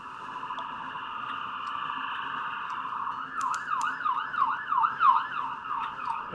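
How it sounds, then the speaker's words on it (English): Emergency sirens wail outside on a big-city street, a steady tone giving way to a rising and falling yelp that swells louder midway, heard at moderate distance with no talk over it. "Apologies if you can hear the sirens coming from outside."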